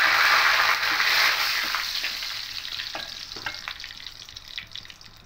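Whole spices, dried red chillies and bay leaves hit hot oil with a bright, loud sizzle that gradually calms, broken by light crackles and pops as they fry in the pan.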